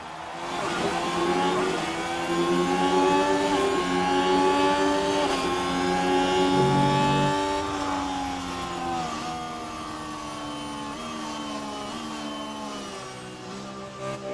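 F1 race cars launching from the start of the Shanghai sprint in F1 Manager 24, a dense, loud wall of high-pitched engines rising in pitch as the field accelerates and shifts up, with no talk.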